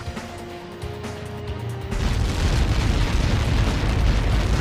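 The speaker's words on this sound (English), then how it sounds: "How many got caught in that explosion?" Missile impact explosion in the Ace Combat 7 flight game: a sudden deep boom after a steady low engine hum, swelling into a loud, sustained rumbling roar that carries on to the end without speech.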